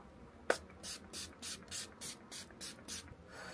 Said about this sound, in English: I'm using this fixing spray from Revolution to add a bit of a glow to the final look.